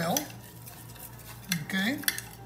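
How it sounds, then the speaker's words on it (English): A utensil stirs cooked rice seasoned with salt and pepper in a pot, several scraping clinks of metal against the pan in uneven strokes, close and fairly quiet. "And then we are going to mix it really, really well."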